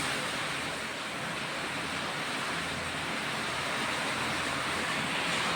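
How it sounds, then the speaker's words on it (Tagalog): Steady, dense rushing of rising typhoon floodwater in Macau fills the scene, a continuous churning wash with a wind-like hiss and no break throughout. "tumataas na yung tubig dahil sa bagyong Ragas"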